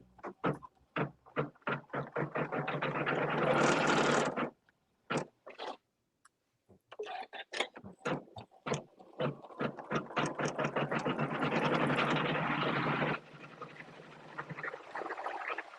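A Janome Continental M17 sewing machine stitches a quilting design, running in fast steady bursts with rhythmic needle clatter, stopping briefly between runs, close and clear.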